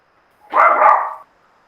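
A small pet dog lets out a single drawn-out bark close to the microphone, sharp at first and then trailing off, against a quiet background.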